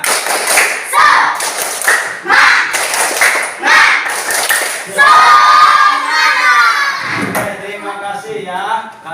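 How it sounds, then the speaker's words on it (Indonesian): Children repeat the 'tepuk semangat' clapping chant in a classroom, with loud patterned clap bursts and shouted chant words. The chant ends on a drawn-out sung phrase. "Lagi, tepuk semangat."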